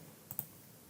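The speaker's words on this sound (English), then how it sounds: "So copy, select this one and hit enter from keyboard" A computer keyboard key is pressed, giving two quick, soft clicks close together against a quiet background.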